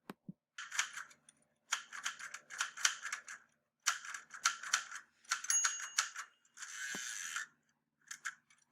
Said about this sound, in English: That's the sound of a typewriter,